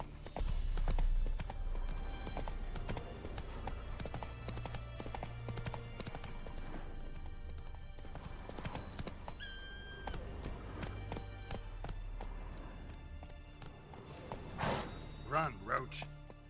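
Roach the horse gallops in The Witcher 3 with a brisk, rhythmic clip-clop of hooves under game music, and a voice speaks now and then over the hoofbeats.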